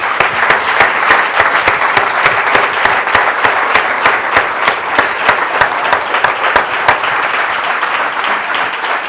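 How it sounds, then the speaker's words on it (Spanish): Church congregation clapping in unison, a fast, steady rhythmic beat of many hands that is loud and sustained for about nine seconds. "Démosle un aplauso al Señor"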